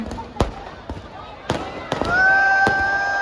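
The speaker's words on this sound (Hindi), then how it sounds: "ये आतिशबाजी का नजारा भी शुरू हो चुका है निगम परिवार की तरफ से" A fireworks display at Dussehra Ravan Dahan in Jodhpur gives several sharp, loud bangs at irregular intervals, with a rising whistle near the end and crowd noise underneath.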